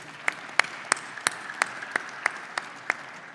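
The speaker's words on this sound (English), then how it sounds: "Please, round of applause for His Excellency." At a large conference, a few sharp, evenly spaced claps ring out at a steady rhythm, roughly three per second, over a quiet hall. The claps are fairly crisp and distinct rather than a dense crowd roar.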